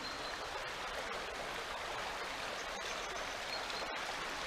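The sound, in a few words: river flowing below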